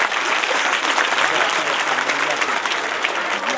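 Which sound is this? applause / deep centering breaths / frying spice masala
applause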